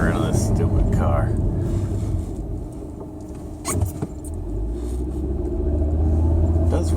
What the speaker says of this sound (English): now I'm driving along and I hear that crazy noise. It's a bearing of some sort.